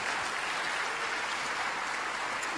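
Convention audience gives a volunteer a round of applause, a steady, fairly loud wash of clapping heard from within the crowd, no speech.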